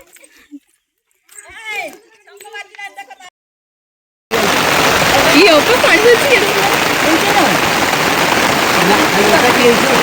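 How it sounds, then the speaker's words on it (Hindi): After a few quiet, sparse voices, heavy rain suddenly takes over on a hill trail at Maa Ratanei mountain in Odisha, a loud, dense, continuous downpour that fills the rest of the moment. "आसला टाइम रे एते जोर से वर्षा है"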